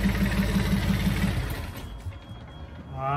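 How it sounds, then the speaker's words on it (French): A boat engine chugs loudly and rhythmically, then is switched off and cuts out abruptly partway through, leaving a quiet tail with a faint hum. "Arrêt du moteur."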